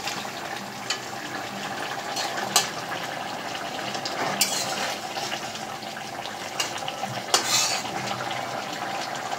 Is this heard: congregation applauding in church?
no